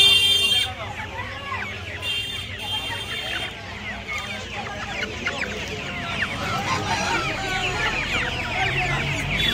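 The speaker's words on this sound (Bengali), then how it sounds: "এখানে একটা দেখতে পাচ্ছেন অস্ট্রেলিয়া একটু বড় সাইজের মোরগ আর মুরগি আছে" Large Australorp roosters and hens at a poultry market in Uluberia cluck and crow in a dense, continuous chorus, with crowd murmur and voices mixed through the din.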